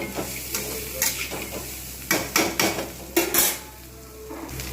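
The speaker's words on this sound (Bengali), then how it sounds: "এগুলো আমি নাড়িয়ে নেব" Pumpkin and pointed gourd pieces being stirred in a frying pan with cumin, chili and turmeric powders, giving a steady sizzle broken by several sharp spatula scrapes and clanks against the pan, close and alone.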